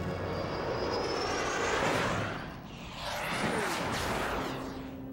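An aircraft engine roars and whines continuously through an aerobatic mirror loop, pitch and loudness rising and falling as the plane swoops, with a brief dip midway; close, loud and without talk.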